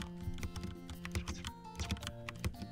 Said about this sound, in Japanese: ちょっとキーボードが程よく響く。